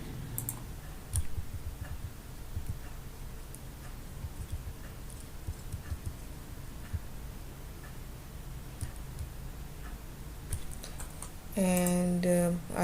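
Quiet computer mouse and keyboard clicks come as scattered light ticks and taps at a desk, faint and close, with a brief tonal chime near the end.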